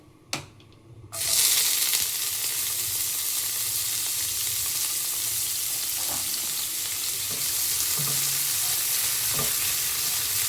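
Chopped onions fry in hot oil for a katla fish curry with ridge gourd and potato, a loud, steady sizzle that starts abruptly after a brief clatter and continues unbroken, with no talking.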